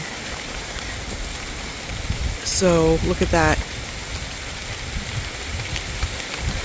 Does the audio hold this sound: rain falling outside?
yes